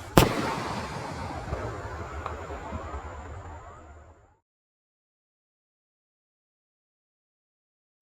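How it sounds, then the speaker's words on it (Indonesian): A large firework rocket bursts with a sharp loud bang, followed by a long crackling, sizzling rain of sparks that fades out over about four seconds, then silence. "Sudah menyala. Roket siap meluncur."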